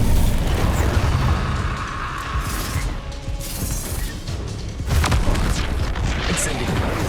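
Confringo blasting spell detonating during a Hogwarts Legacy duel, a loud booming burst with crashing debris and rumbling low-end that carries through the clip, with a second heavy surge near the end and a voice speaking over parts of it.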